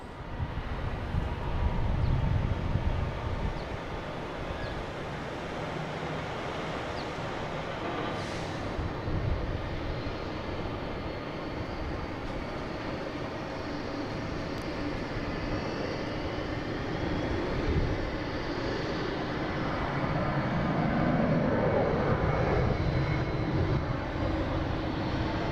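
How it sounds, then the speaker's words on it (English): A JetBlue Airbus A321 departs Boston Logan, bound for San Francisco, its broad jet engine roar holding steady for the whole stretch and swelling slightly near the end, with no voices over it. "We got JetBlue here heading to San Francisco on A321, flight 1733."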